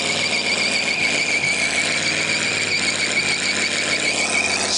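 Tires on a muscle car spinning hard at a demolition derby give off a loud, sustained high-pitched squeal with a shrill shredding edge, steady throughout, with a throbbing engine roar beneath it.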